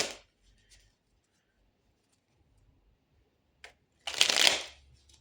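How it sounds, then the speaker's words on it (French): Tarot cards riffle and snap in a short, crisp shuffle near the end, preceded by faint taps and a soft flick amid near silence, close to the listener and without speech. "on va laisser ça là et on va aller tirer d'autres cartes là"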